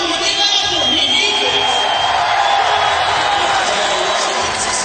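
A large skateboarding competition crowd in New Jersey cheers steadily for skater Mikey Taylor, a continuous roar of voices with whoops rising from the mass, with commentary voices over it.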